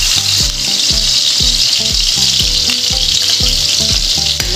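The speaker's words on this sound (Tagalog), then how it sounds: "ilalagay na po natin ang bawang." Garlic sizzles loudly in hot oil in a pan for a seafood boil, a steady close hiss with a rhythmic pulsing scrape as it is stirred.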